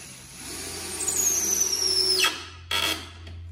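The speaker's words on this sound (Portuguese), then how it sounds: "E agora eu vou parafusar." Power drill driving a screw into wood for a honeycomb shelf, a close whine that climbs in pitch for about two seconds and stops, followed by a brief second burst.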